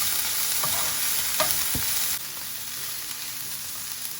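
Spinach and parsley being stirred into mushrooms frying in a pan for a masala mushroom omelette, giving a steady close sizzle with a few scraping utensil strokes early on, then a slightly quieter continuous fry.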